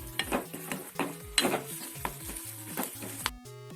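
A spoon stirs a curd curry in a pan with turmeric and roasted fenugreek powder, giving repeated scraping strokes with a soft sizzle, moderately quiet, with tonal background sounds in between.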